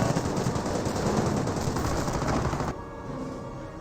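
Dense, continuous machine-gun and rifle fire from the video game Company of Heroes, loud and sustained, then cutting abruptly to a quieter battle rumble near the end.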